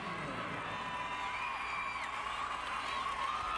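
A home crowd at the 2006 SEC Gymnastics Championships cheers and whoops continuously, a distant, roomy roar with scattered shouts that holds steady throughout.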